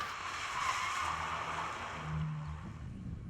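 Car tyres skid under hard braking with no ABS, a loud broad screeching hiss that holds steady for a few seconds with the engine droning low beneath it.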